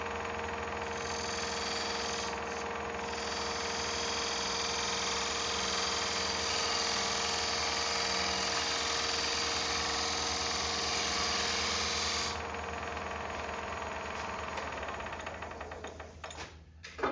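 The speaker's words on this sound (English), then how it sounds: "This is a smaller spindle gouge that I use as like a detail gouge." A cherry bowl spins on a wood lathe while a small spindle gouge, used as a detail gouge, cuts steadily for about twelve seconds, a constant whirring hiss over the motor hum, then the cut eases off and the lathe winds down.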